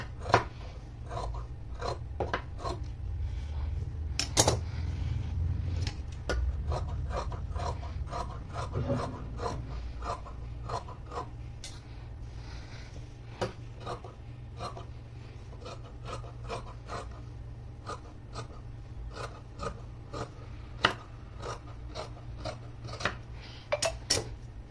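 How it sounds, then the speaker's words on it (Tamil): Scissors cutting excess fabric from a long Anarkali frock being stitched, a long run of close, rhythmic snips and rasping blade strokes through cloth, with a few sharper clicks and a low background rumble. "எக்ஸஸை நம்ம கட் பண்ணிக்கலாம்"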